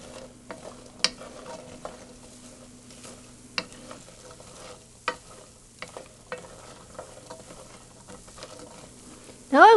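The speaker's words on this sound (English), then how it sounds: "Now I'll just stir this in real good. My handy dandy wooden spoon." A wooden spoon stirs cranberry sauce in a pot, giving soft irregular scrapes and clacks against a low steady hum, with a louder knock near the end.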